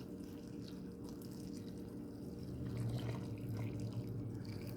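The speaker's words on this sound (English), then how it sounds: "we're going to take and just pour this on top of our onions here very carefully" Quiet trickle of pickling liquid being poured over onions, faint and steady, growing a little louder toward the end over a low background hum.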